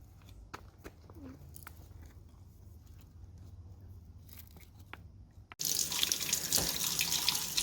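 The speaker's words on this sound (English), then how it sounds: "you're going to want to rinse them in the sink to get off any dirt or debris" Tap water runs into a sink as small rocks gathered from a yard or garden are rinsed of dirt, a steady loud splashing rush that starts abruptly after a quiet stretch of faint drips and handling noises.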